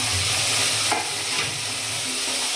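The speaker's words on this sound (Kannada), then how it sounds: "ನೋಡಿರಿ, ಒಗ್ಗರಣೆ ಹಾಕ್ತಾ ಇದ್ದೀವಿ. ಹಾಗೆ ಟೊಮೊಟೊ ಹಾಕ್ಕೋಬೇಕು." Tomatoes and onion fry in a hot tempering, giving a steady, close sizzle with soft stirring scrapes throughout and a brief clatter near the middle.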